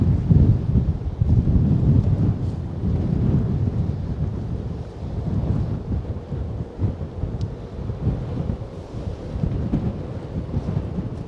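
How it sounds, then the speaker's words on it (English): Strong gusty wind blowing across the Manhattan waterfront by rough river water, roaring continuously into the microphone with rumbling buffets and no voices. "It's getting too windy."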